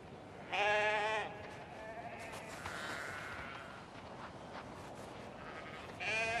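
Sheep bleat in the Alps: a loud, close bleat near the start and another at the end, with fainter flock calls in between over a quiet outdoor background.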